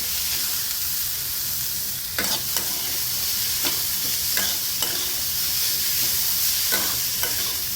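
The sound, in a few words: cabbage being stir-fried in oil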